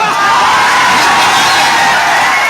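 Large outdoor political rally crowd in Bihar, with people packed onto rooftops, cheering and whooping loudly in a dense, continuous roar.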